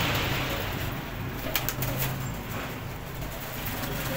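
Pigeons coo softly in a background of steady ambient noise, a low murmuring call with a few faint higher chirps, no voices present.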